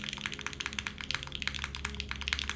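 Fast, continuous typing on a mechanical keyboard with milky yellow switches: crisp, evenly spaced key clacks at moderate volume, with no talking.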